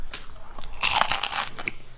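A crunchy taco topped with melted cheese is bitten into at close range, giving one loud, brittle crunch followed by a few smaller crackling chews, with no talking.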